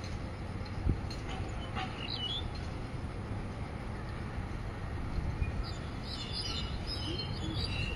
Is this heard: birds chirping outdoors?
yes